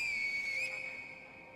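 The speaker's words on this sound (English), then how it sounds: "Oh, yeah, we do the whistle now." In-game whistle from the video game Sekiro: a single sustained high whistle note that wavers briefly partway through and then holds steady, fading slightly at the end, heard alone without talk.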